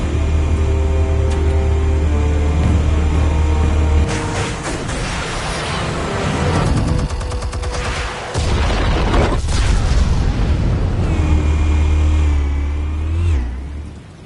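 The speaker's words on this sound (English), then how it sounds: "Explosives armed. Fire when ready." Explosives detonate in a Batman video game on PS4: a loud, deep engine-like rumble gives way to heavy booming bursts and crackling debris, then the low drone returns.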